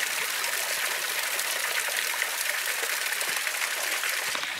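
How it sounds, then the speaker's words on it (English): A small waterfall with a fairly steep drop roars in a steady, close broadband rush of falling water, continuous and alone without any talk. "So you probably hear the falls."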